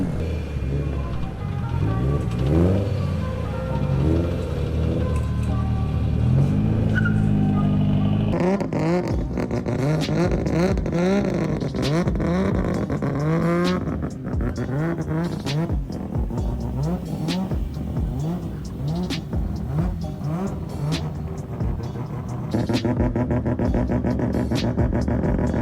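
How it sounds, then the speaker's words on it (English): A Nissan GT-R's engine revs loudly at a busy car meet in Thailand, with rising and falling throttle blips layered over other idling engines and crowd noise. "Oh, that's a GTR."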